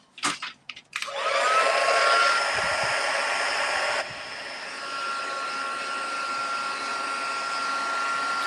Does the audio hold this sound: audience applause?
no